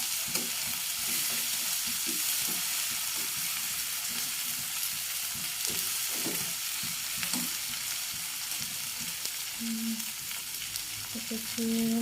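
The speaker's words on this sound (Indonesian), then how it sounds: "Ditumis sampai harum, sebelum harumnya ini harum keluak" Spices for rawon, an Indonesian black beef soup made with keluak, sautéing over high heat in a pan, giving a steady close sizzle with scattered stirring scrapes and faint tonal clinks throughout.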